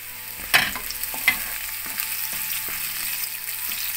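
Lemongrass goes into a hot pan for Thai coconut fish soup, with a soft sizzle and a few sharp clinks and stirring scrapes spaced out over quiet frying.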